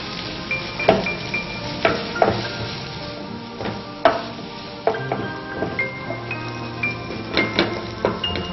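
Onions fry in a pan, browning, with a steady close sizzle broken by repeated sharp clacks and scrapes of stirring at irregular intervals.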